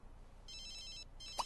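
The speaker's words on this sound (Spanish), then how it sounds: "Teléfono. Teléfono. ¿Cómo?" Ringing of a telephone in The Sims 3 video game, two short electronic trills over steady background hiss, fairly faint and without talk.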